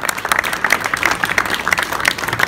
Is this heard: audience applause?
yes